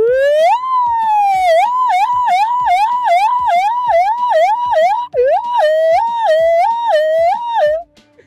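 A voice imitates an ambulance siren, producing a loud, continuous high warble that rises and falls in quick regular cycles for about seven seconds, with one brief break partway through.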